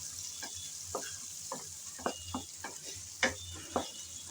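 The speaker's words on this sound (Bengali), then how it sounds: "পেঁয়াজ কুচি দিয়ে হালকা করে নেড়ে চেড়ে ভেজে নেব" Chopped onions stir-fried in the oil left from frying prawns: a steady sizzle runs throughout, broken by about eight sharp scrapes and clacks of the spatula against the pan, unhurried and close.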